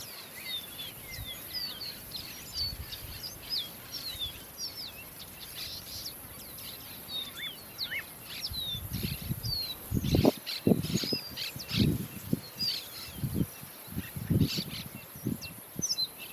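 Gray-crowned seedeaters call with thin, high chirps and short twittering notes, faint and somewhat distant, over a soft outdoor background with occasional low thumps and no voices.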